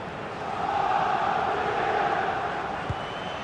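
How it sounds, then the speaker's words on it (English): AC Milan fans in a Serie A stadium crowd cheer in FIFA 21 on PS5, a steady distant roar that swells slightly and then holds, with no clear talk. "just listen to these Milan fans. The crowd very much behind the team right now"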